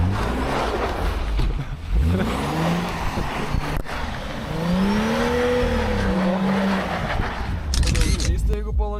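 A car decorated for Christmas drifts and slides on an icy road with a steady engine roar and rising and falling revs as it swings around. Voices talk over it, and a sharp clatter comes near the end.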